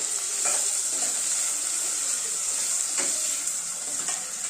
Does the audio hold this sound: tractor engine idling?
no